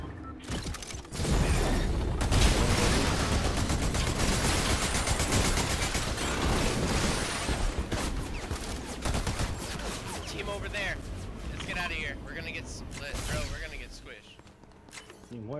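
Heavy gunfire in Fortnite, dense bursts of shots rattling almost continuously for most of the stretch, loud and close, with players talking over it.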